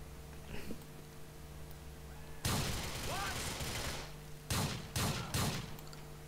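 Shotgun blasts in Grand Theft Auto IV: one loud blast followed by three more sharp shots in quick succession, each with a short echoing tail over steady game background noise.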